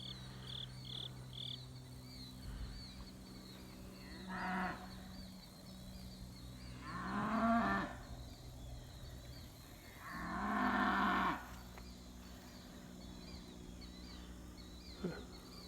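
Cattle on a farm moo three times from mid-distance, each low call lasting about a second, with insects and faint background noise between them.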